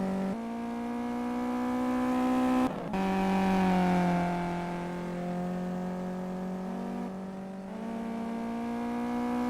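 Race car engines drone steadily at high pitch in the Simraceway racing game, a sustained harmonic whine that dips briefly with a gear change near three seconds, then holds loud and even throughout.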